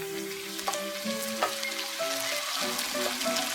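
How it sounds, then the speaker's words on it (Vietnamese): Tomatoes stir-fried in a hot pan for a quick fried-egg breakfast dish, giving a steady close sizzle broken by occasional scrapes and clinks of a utensil against the pan, with no talk. "Rồi cho cà chua vô và mình sẽ xào khoảng 2 đến 3 phút nữa."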